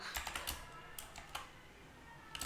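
A computer keyboard clicks softly as JavaScript code is typed, with short irregular bursts of keystrokes separated by brief pauses, faint and close.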